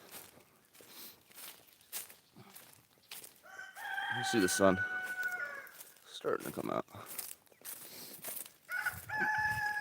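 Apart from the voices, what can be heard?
roosters crowing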